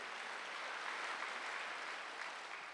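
A church congregation at a Wednesday worship service applauds steadily, a dense, even wash of clapping that holds for the whole stretch at moderate, slightly distant level, with no speech on top.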